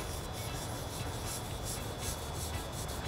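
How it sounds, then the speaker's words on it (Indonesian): Steady, continuous rubbing of paper against a brake caliper piston, a dry, papery scrape, close up and fairly loud, with a slight back-and-forth rhythm and no voices. "kita mulai menggosoknya dengan menggunakan kertas"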